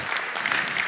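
An audience at an award show for immersive and VR technology applauds, a brief, dense burst of steady clapping from a sizeable crowd.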